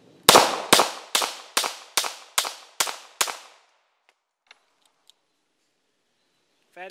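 Eight sharp, loud pistol shots from a Norinco 213, a Tokarev-type handgun, fired in an even rapid string at an outdoor range, followed by quiet with faint clicks and small metallic sounds.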